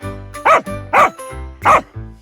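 A dog barks three times, close and loud, with short gaps between each sharp bark.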